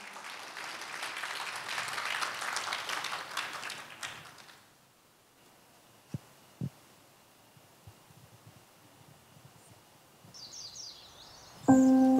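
Clapping from an audience follows an ocarina performance by a disability welfare center ensemble at a Korean poetry-recital event in Sangju, a dense wash of applause that fades after about four seconds into a quiet room with scattered knocks.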